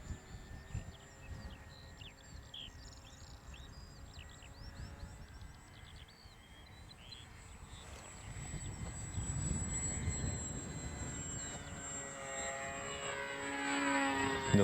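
A KI-61 Hien model airplane's engine runs at half throttle, a faint steady buzzing drone that slowly grows louder and rougher over about fifteen seconds, heard from some distance with no talk.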